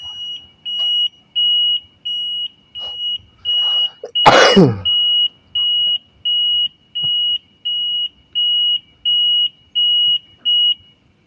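Repeating electronic buzzer alarm from an IoT-based prototype fireworks firing system, steady high beeps pulsing about twice a second, loud and close, briefly masked midway by a noisy rustle or cough-like burst.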